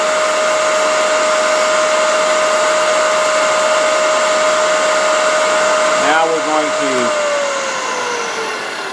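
Threading jig cutter carving wood threads into a dowel turned at an easy speed, a steady loud whining drone running throughout, shifting slightly in pitch near the end as the cut eases off, with no talking.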